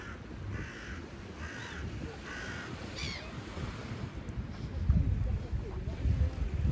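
Several crows caw in short repeated calls beside a lake, over steady wind and outdoor rumble, with a faint voice in the background.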